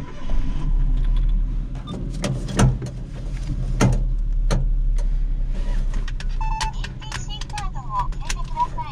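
A 1994 Suzuki Jimny JA11, a low-mileage used car out on a test drive, gives a steady low engine and road rumble from inside the cabin, with a few sharp knocks and clicks over it.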